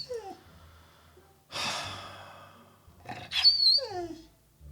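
A dog whimpers and whines in short, high, falling cries, broken by a breathy huff, close and fairly quiet with no talk over it.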